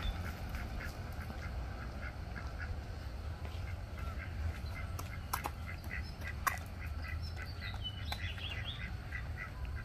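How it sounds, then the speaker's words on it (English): A white duck quacks at Cherokee Park in New Tazewell, Tennessee, giving a few faint, scattered calls from some distance over a steady low background rumble. "Here's one, a white duck."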